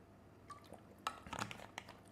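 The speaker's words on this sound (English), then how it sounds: "I'm just gonna drink some water 1 second." A person in warm Bali takes a quick drink of water: a soft gulp and liquid swallowing sounds with faint clinks, brief and quiet, no talking.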